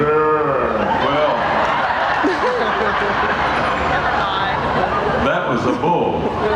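A man imitates a cow with drawn-out, wavering moo calls, loud and close over a murmuring crowd at an Elvis Week event, with several voiced bellows following one another.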